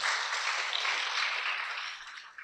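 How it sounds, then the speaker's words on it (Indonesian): Audience applause at an Islamic religious lecture, a dense steady wash of many hands clapping together for a couple of seconds, then tapering slightly at the end. "Ya, tepuk tangan dulu."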